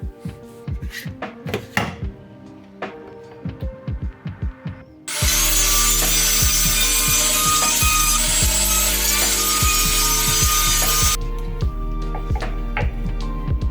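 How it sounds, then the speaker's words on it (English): A wood router cuts a pickup recess and a wiring channel into the body of a custom violin. A loud, steady high whine runs for about six seconds, with knocks and handling sounds before and after it. "I'm going to router in order to have space for the pickup, and I'm also going to router a little channel so that I have space for the wiring"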